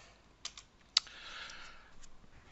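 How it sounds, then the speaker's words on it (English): A password is typed on a computer keyboard: a few sparse, quiet key clicks spaced apart, faint and close against a soft background hiss. "so I'm typing password, which is Eve, repeating again Eve"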